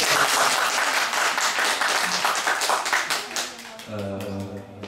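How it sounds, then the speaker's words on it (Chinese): An audience breaks into warm applause for a host at a birthday celebration, dense clapping that tapers off over a few seconds, with a short musical tone sounding as it fades. "我们再一次热烈的掌声给我们的主持人"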